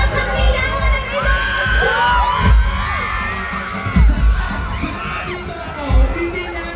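A festival crowd in Ilocos Sur cheers, shouts and whoops loudly and continuously, with children's shouts and occasional bangs punching through the roar.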